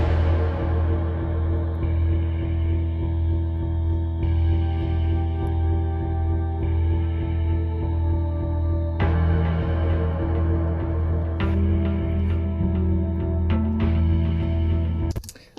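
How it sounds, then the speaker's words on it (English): Melodic, dark cinematic guitar sound-design patch, a sustained layered drone with a steady low bass tone and notes that shift in sections, playing alone throughout before cutting off abruptly at the end. "I wanted to create like a melodic kind of sound, something that had, that still had that kind of dark tension"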